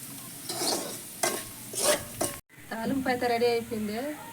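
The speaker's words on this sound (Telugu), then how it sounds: "పుట్ట తమ్మకాయల తాలింపు అయితే రెడీ అయిపోయింది" A tempering of putta tammakaya is stir-fried in a pan, with bursts of scraping and sizzling from stirring over about two seconds, after which a voice talks over the quieter cooking.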